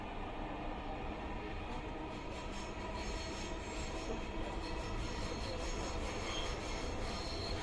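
A Dhaka metro train on MRT Line 6 rumbles steadily along the rails with a constant, dense roar and a faint high squeal from the wheels, loud and continuous throughout.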